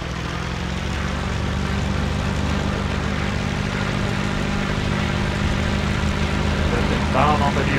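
Steady drone of a LaGG-3 fighter's piston engine in the Il-2 Sturmovik flight sim, a continuous loud propeller hum that holds even throughout with no breaks.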